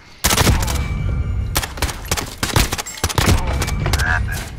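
Loud, close gunfire from Call of Duty: Modern Warfare in a multiplayer match, with repeated sharp shots and rapid bursts cracking in quick succession, no talking heard.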